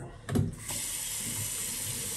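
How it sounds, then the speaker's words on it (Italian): Tap water running into a sink to warm up for shaving, a short knock at the start, then a steady close hiss of flowing water. "Faccio scorrere un po' l'acqua che si scaldi per metterne un po' sopra"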